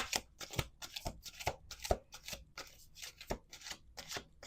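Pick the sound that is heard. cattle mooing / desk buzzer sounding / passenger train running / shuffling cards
shuffling cards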